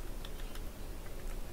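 Typing on a computer keyboard in a Linux terminal session, a few faint, scattered key clicks over a steady background hiss, with no talking.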